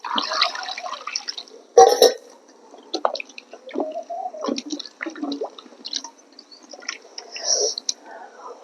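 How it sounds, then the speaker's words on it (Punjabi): Carrots and potatoes are rinsed by hand in a bowl of water, with splashing, sloshing and dripping in irregular bursts, and a voice talks quietly throughout. "ਇੱਕ ਵਾਰ ਪਾਣੀ ਹੋਰ ਪਾ ਕੇ ਧੋਵਾਂਗੇ"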